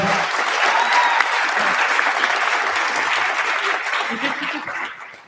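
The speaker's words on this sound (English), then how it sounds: "Can we have a round of applause?" Audience at a Democratic town hall breaks into a round of applause, loud, dense clapping sustained for several seconds before tapering off, with some voices mixed in.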